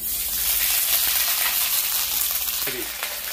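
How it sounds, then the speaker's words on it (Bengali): Ginger paste dropped into hot tempering oil, a steady, fairly quiet frying sizzle with a faint clink near the end. "তো আমি একটু কিছুটা আদা দিয়ে দিচ্ছি, আদা বাটা।"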